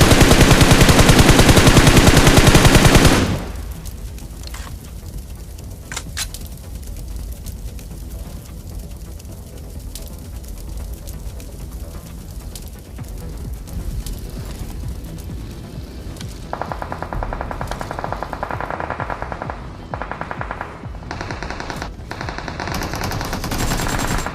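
Rapid automatic gunfire rings out in a battle royale video game, a loud sustained burst at the start followed by quieter scattered shots and rattling bursts through the rest.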